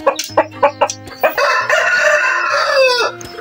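A rooster crows loudly and long, preceded by a quick run of sharp clucks from close by.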